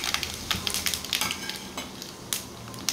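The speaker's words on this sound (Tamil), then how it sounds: "கடுகு சீரகம் நல்லா பொரியட்டும்." Mustard seeds and cumin spluttering in hot oil in a kadai, with quick crackling pops at an uneven rhythm over a steady sizzle, close and fairly soft, with no talking.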